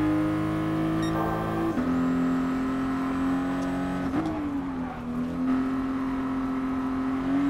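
A 1997 Toyota Supra RZ in Gran Turismo Sport at Willow Springs, its engine droning loudly and steadily, with pitch drops at gear shifts and a brief rev surge, heard alone without voices.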